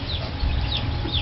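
Chickens cluck in short bursts inside a coop warmed by a quartz infrared heater, the clucks fairly loud and close over a steady low background hum.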